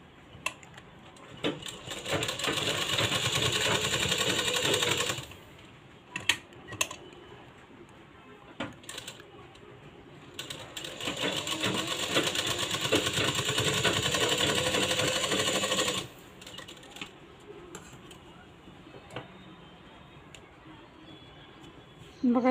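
A sewing machine runs in two long bursts while double-stitching a blouse, a fast rattling whir separated by quiet pauses and small clicks, with a voice talking between runs.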